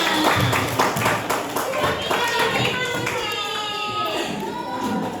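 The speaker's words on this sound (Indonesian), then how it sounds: "Oke, tepuk tangan buat semuanya." A group of children claps in a quick, ragged burst of applause, with young voices calling out over the clapping.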